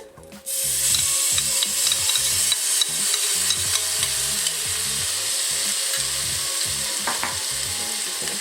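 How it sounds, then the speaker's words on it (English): Garlic and ginger sizzle loudly in hot fat inside an Instant Pot, with a steady frying hiss and repeated rhythmic scraping of a stirring utensil against the pot throughout. "Now adding my garlic and ginger."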